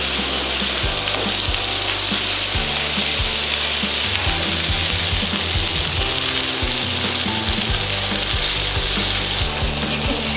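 Fried rice reheating in a hot pan sizzles loudly and continuously up close, with frequent scraping and tossing knocks from stirring scattered through the hiss.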